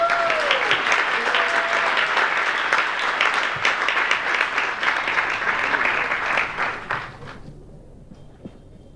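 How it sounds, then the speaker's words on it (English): An audience at a devotional gathering gives a round of dense applause that holds steady for several seconds, then thins out and dies away, with faint talk underneath. "Please give her a big round of applause."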